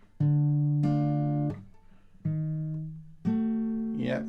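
Guitar chords strummed in a slow progression, four sustained ringing chords each left to decay, close and clear, with a brief voice at the very end.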